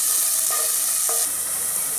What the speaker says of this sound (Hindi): अब हम इसमें डालेंगे बारीक कटी हुई प्याज, चला देंगे इसे।